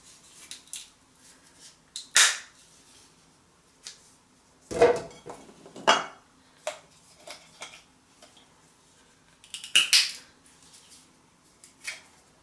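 A knife scoring raw chestnuts on a board before roasting, irregular sharp clicks and taps spaced across the clip, some in quick clusters, close and fairly quiet.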